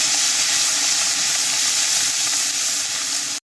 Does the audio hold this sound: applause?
no